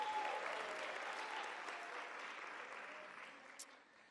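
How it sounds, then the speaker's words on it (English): A crowd gives sustained applause at a Casual Day 30th celebration and launch event, heard at a distance as a steady wash of clapping that fades slowly toward the end. "can we just give another round of applause?"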